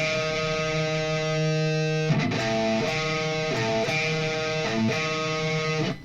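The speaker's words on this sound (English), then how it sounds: "It's the flat five, okay?" A flat-five interval rings out on a distorted electric guitar: one sustained chord, then several rhythmic stabs of the tense, dissonant pair, loud and close with no talking.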